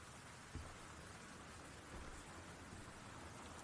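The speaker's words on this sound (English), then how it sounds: "It's raining. You can hear the rain." Steady rain falling outside a house in the video game Gone Home, a constant hiss of noise with no speech.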